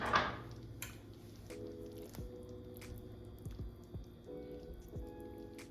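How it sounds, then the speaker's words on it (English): Chicken and dumplings with chopped boiled eggs are stirred gently in a pot, giving soft wet squishing and faint spoon scrapes at irregular intervals, quiet and close with no talk. "give this a gentle stir."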